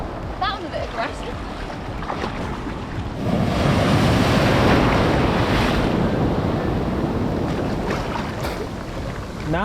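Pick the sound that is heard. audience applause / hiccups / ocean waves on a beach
ocean waves on a beach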